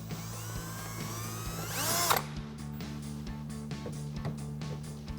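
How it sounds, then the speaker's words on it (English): A power drill fitted with a 1/8 bit drills a hole in a molded mud guard fender flare on a Jeep Gladiator JT: a rising whine that cuts off sharply, then quiet ratcheting clicks. "and we're going to drill out 2 holes"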